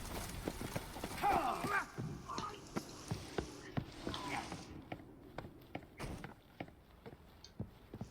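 Horse hooves clip-clop in The Witcher 3: Wild Hunt, a run of sharp, fairly close hoofbeats in steady rhythm alongside other game sounds and faint voices.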